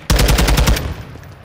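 Rapid burst of about eight loud automatic gunshots in an online shooter match, close and evenly spaced, fading into a short reverberant tail.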